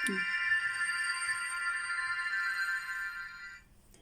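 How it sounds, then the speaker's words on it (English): A mobile phone rings in a quiet room, a single sustained electronic tone that holds steady for several seconds, then stops abruptly. "that's my phone ringing"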